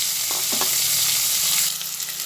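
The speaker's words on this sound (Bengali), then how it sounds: "এটা ভাজা হচ্ছে, সেই অবস্থায় এর মধ্যে কুচানো পেঁয়াজ দিয়ে দিলাম" Chopped onion frying in hot oil with whole garam masala and bay leaf, a steady broadband sizzle running throughout with a few brief stirring scrapes and no talking.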